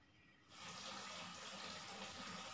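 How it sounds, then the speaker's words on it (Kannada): A water tap is turned on into a bucket on a home balcony, jumping from quiet to a steady, hissing gush of running water that pours continuously, close and alone. "ಸೊ ಹಾಗಾಗಿ ಬಕೆಟಿಗೆ ನೀರು ಆನ್ ಮಾಡಿದ್ದೀನಿ."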